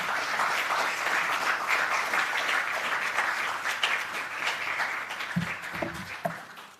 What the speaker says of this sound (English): I think we need a better clap than that.